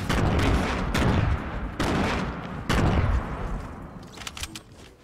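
Gunfire from a shotgun and SMG in an online shooter video game: several loud bursts of rapid shots in quick succession, each ringing out, then fading into scattered quieter shots.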